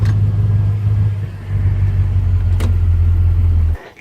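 A 1957 Chevy convertible, a high-mileage driver car, rumbles along at night with a steady, loud low engine drone close by, holding even for several seconds before cutting off abruptly near the end.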